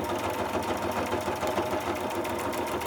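A sewing machine runs a steady, continuous straight stitch while a paper clip pocket is being made, its fast even mechanical chatter loud and close for the whole stretch with no talking.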